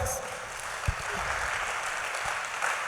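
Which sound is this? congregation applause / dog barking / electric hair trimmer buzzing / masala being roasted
congregation applause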